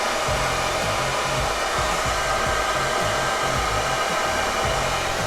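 A hair dryer blows a loud, steady rushing whir close up, with a low pulsing flutter underneath, as warm air is aimed at a handlebar mustache.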